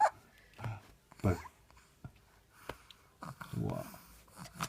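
A dog sneezes and snorts in several short, sharp bursts close by, with small whimpering noises in between and a few spoken words from a person nearby.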